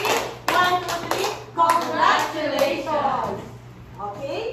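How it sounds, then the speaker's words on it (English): A classroom of children doing a rhythmic congratulations clap in a counted pattern, with sharp bursts of group clapping close by, mixed with children's voices and chatter. "Let us give generals a congratulations clap."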